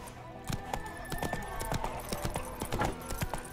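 Hooves of the horse Roach galloping in The Witcher 3, a fast, steady clip-clop rhythm close and prominent throughout, with ambient game sound underneath.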